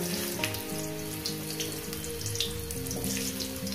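Potato pieces fry in hot oil already seasoned with cumin and dried red chillies, a loud, steady, close sizzling hiss that barely changes throughout, with faint music underneath.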